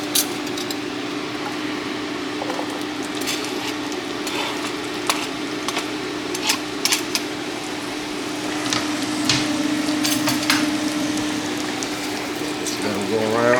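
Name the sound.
onions frying in melted butter in a pan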